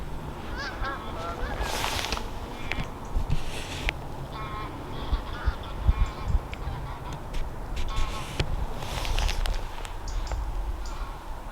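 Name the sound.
flock of geese honking as they land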